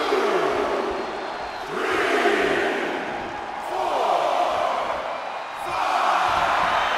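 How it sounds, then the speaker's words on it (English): A roaring arena crowd in the WWE 2K24 wrestling video game at an NXT event cheers in rolling waves, swelling and easing several times, loud and dense throughout. "The sound of this crowd is deafening, and he's asking for more."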